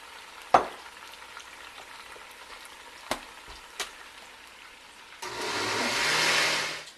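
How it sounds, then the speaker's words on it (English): Meat browning in a pot on a home stove: a steady sizzle and frying hiss swells loudly in the last two seconds, after a few sharp clinks of utensils against the pot over a quiet background. "I want to brown the meat a little bit more."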